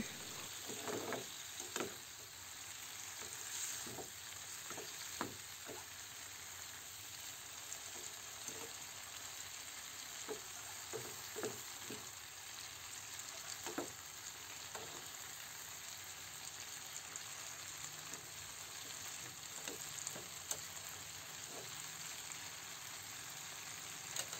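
Pork belly sizzles and crackles steadily in a pan for Filipino kangkong with tofu, with intermittent scraping clicks from stirring over the constant frying hiss.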